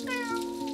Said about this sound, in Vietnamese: Mẹ, có chú mèo ở ngoài nè.